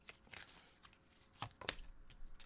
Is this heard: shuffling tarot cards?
yes